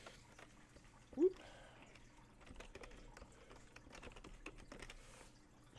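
Fingers type on a computer keyboard in a steady run of quiet, rapid clicks, with a brief voice sound near the start.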